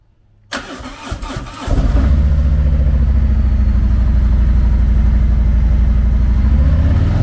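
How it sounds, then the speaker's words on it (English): A 2018 Harley-Davidson Electra Glide Ultra Limited with a 107 cubic inch V-twin cranks briefly, fires loudly and settles into a steady, close, rumbling idle. "Powered by a 107 cubic inch V-twin motor, the Electra Glide puts 90 horsepower and 112 foot-pounds of torque through a 6-speed transmission."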